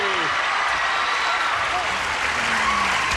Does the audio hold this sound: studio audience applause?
yes